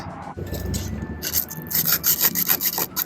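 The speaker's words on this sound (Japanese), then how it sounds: "180番ぐらいのペーパーで塗装面を削っておきます。" Close, rhythmic scraping of 180-grit sandpaper on painted metal in an Audi A3 sedan, rubbing back and forth in quick strokes, with no talking.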